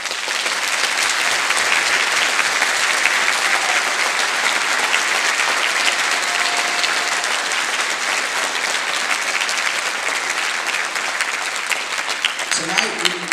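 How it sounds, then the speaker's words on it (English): An audience of parents and guests at an honor band concert applauds the student musicians, a dense, sustained wash of clapping that stays loud and even throughout, with a few sharper claps near the end. "let's give these students a huge round of applause"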